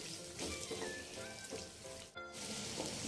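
Boti, goat tripe, fries in hot oil with a steady, soft sizzle and bubbling crackle that runs throughout, with no talking.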